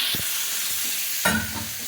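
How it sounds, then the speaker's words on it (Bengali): Drumstick (sajne) stalks fry in a pan with a steady soft sizzle, punctuated by a louder stirring scrape and clatter partway through, close and without talk. "সজনে ডাঁটাটা দিয়ে আর একটুখানি ভাজা করে নেব"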